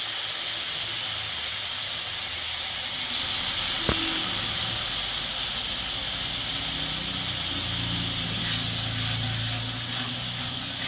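Water poured over spices frying for a rohu fish curry with potato and data stems, a sustained steamy hiss with one sharp tap early on, fairly loud and close, no talk.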